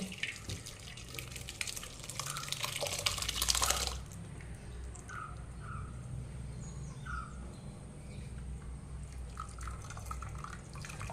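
Whey from curdled milk strains through a thin cloth into a vessel below, a steady watery trickle with a louder pouring gush early on, then softer drips alone.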